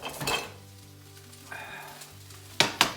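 Oil sizzles steadily in a pan for a chicken and vegetable stir-fry, with a soft hiss underneath and a couple of sharp utensil clinks against the pan near the end.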